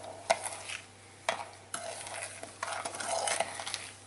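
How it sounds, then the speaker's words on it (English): A spoon stirring a cinnamon bun mixture, several sharp knocks against the bowl followed by steady scraping and swishing strokes that build toward the end. "Let's mix it up. Take a spoon,"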